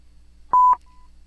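A single long Morse code dash, a steady mid-pitched electronic tone held for about a quarter second, loud and clean against a silent background.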